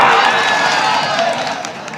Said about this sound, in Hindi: एक बार 100 बार तालियां।